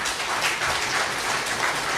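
Dense applause from a large crowd at a program session in Silvassa, steady and sustained throughout, with no voices standing out.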